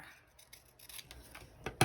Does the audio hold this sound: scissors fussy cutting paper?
yes